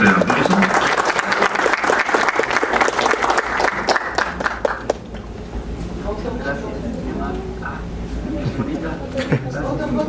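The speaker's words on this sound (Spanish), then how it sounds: "Le damos un fuerte aplauso." Audience applause at an academic seminar session, a dense, loud burst of clapping for about five seconds that then drops to a thinner patter and murmuring voices.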